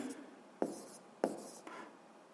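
A pen scratches across paper in a few short strokes while an answer is written down, quiet and close, with no talk.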